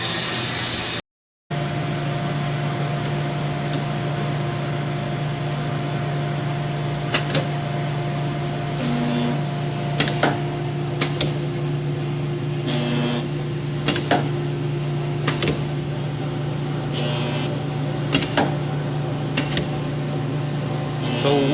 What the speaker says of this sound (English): So we're welding up these 100 series receivers right now.